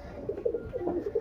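A pigeon, a red-throated breed, coos close by in a soft, low, rolling series of quick warbling notes, alone without talk.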